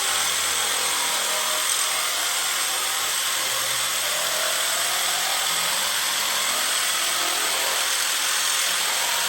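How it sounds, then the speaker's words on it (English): A nibbler trims 3003 aluminum sheet for the center section of a custom chopper motorcycle gas tank, making a continuous loud, high whining buzz of rapid cutting that holds steady throughout. "Trim this piece of 3003 down with a nibbler to make the center section of the tank."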